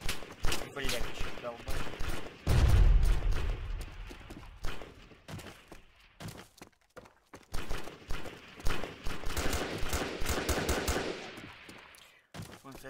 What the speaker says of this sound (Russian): Вон, блядь, как со скалы стреляет.